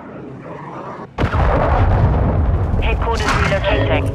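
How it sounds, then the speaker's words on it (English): A cruise missile strike in the Call of Duty Modern Warfare 2 video game, heard as a sudden loud blast that swells into a sustained roaring rumble of explosions with sharper bursts near the end, over faint voice chatter. "Hostiles launched a cruise missile."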